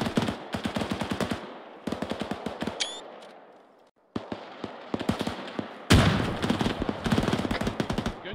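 Rapid automatic gunfire bursts crack loudly from a firefight in the military video game ArmA 3, with a brief lull before a heavier barrage resumes.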